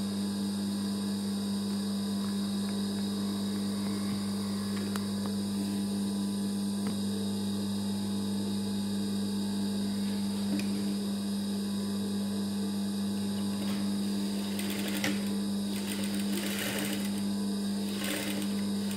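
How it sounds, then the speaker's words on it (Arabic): A sewing machine stitches fabric along a marked line during a tailoring lesson, running as a steady close whir under a strong electrical hum, with brief bursts of faster stitching near the end and no talking. "باش نربح الوقت انا غادي نديرها لكم بالماكينه."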